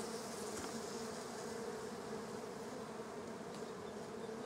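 Honey bees in a hive-trap box at a garden apiary give a dense, steady buzzing drone that stays even and close throughout, with no voices.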